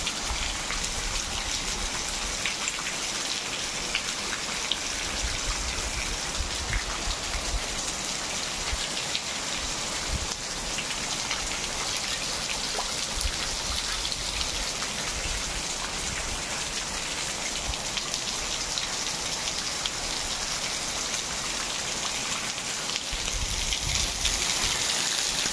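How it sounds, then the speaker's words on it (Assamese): Heavy morning rain pours steadily outside, a dense continuous hiss of drops hitting surfaces with no break, loud and unchanging throughout. "দেখিছেনে বৰষুণ পৰি আছে।"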